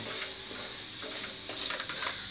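Onions frying in a pan for brinjal fry, a soft, quiet sizzle with a few light stirring scrapes, close and without talk.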